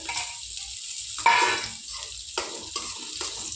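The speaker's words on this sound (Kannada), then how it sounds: "ಹಸಿ ಉಳ್ಳಾಗಡ್ಡೆ ಎಲ್ಲ ಫ್ರೈ ಮಾಡ್ಕೋಬೇಕು ಚೆನ್ನಾಗಿ" Raw onions frying in a pan while making Gobi Manchurian, a close crackling sizzle with a couple of louder bursts, as if stirred, over a quieter hiss, no voices.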